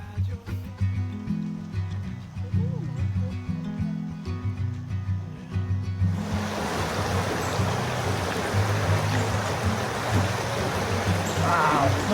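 Water of the Nantahala River rushes as a steady, loud broadband wash that takes over midway, after a stretch of tonal background sound, then continues unbroken to the end.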